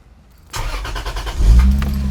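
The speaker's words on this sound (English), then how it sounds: "Now we're gonna turn on our car." A car engine cranks and catches after a half-second of quiet, then settles into a steady idle that rises slightly in level near the end, close and clear.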